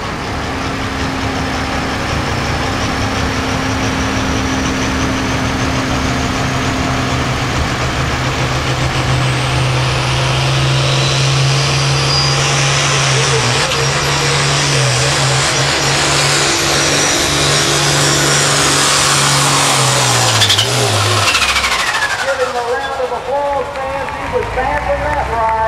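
A hot farm tractor engine at a tractor pull event in Lanesville, Indiana, held loud and steady, pulling for over twenty seconds before dropping off sharply, with crowd noise and an announcer-style voice mixed in.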